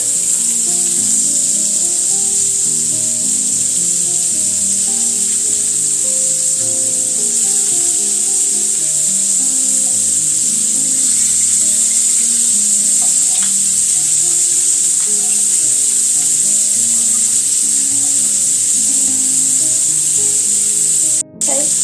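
Shrimp sear in a skillet just after being flipped, giving a loud, continuous close-up sizzle with a steady hiss that barely changes throughout, with no talking.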